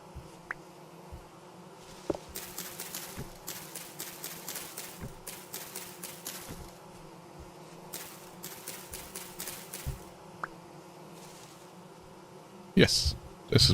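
Bees buzz in a video game, a rhythmic series of soft pulsing hums repeating steadily at moderate volume before a louder, sharper burst of sound near the end.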